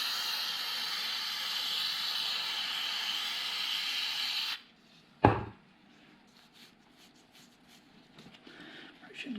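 A steady aerosol hiss of CRC layout fluid remover sprayed onto a freshly machined metal lathe part runs continuously for about four and a half seconds, then cuts off, followed by a single sharp knock and quiet handling noises.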